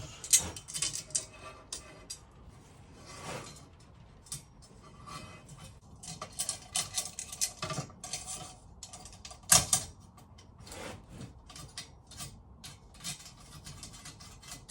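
A wooden pocket door made with plywood is tested on its wheels. It gives intermittent mechanical creaks, clicks and rattles of varying loudness across several seconds, close by with no talk.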